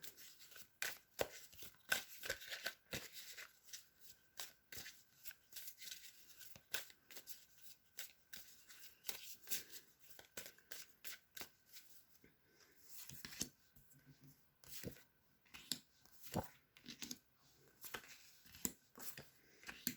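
Tarot cards being shuffled by hand for a monthly reading, giving irregular runs of soft, crisp riffles and slaps that go on throughout, fairly quiet and close, with no speech over them.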